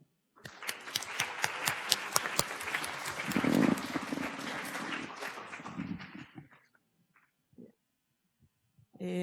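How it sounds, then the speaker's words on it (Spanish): Applause from an audience at a panel on cinema and propaganda swells into steady clapping, then thins out and fades to near silence, leaving a few isolated claps at the end. "también démosles un aplauso"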